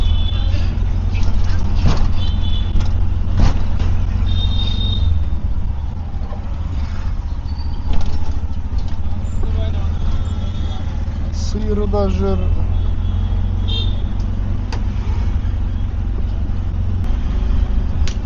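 Dense New Delhi street traffic rumbles close by, cars and heavier vehicles idling and crawling bumper to bumper with a constant low engine drone, scattered horn toots and a brief brake hiss, while a person talks over it.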